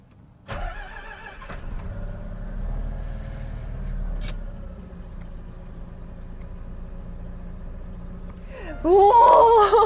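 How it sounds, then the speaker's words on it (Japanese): A Eunos Cosmo's engine cranks and fires, then settles into a steady, fairly loud idle with a low rumble. A sharp, louder burst of noise rises near the end. "ついにコスモのエンジンをかけちゃいました。"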